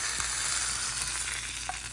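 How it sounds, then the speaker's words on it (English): Hot curry leaf tadka poured onto banana stem raita, a steady loud sizzle and crackle with a small pop near the end, close and continuous, no voices. "Once it pops, just go ahead and turn off the gas and put the tadka on the raita"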